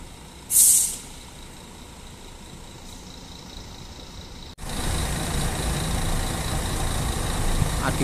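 A Prima Jaya Solo bus's air brakes release a sharp hiss, followed by a low engine rumble that swells and keeps idling.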